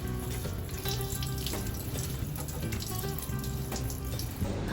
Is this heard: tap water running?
yes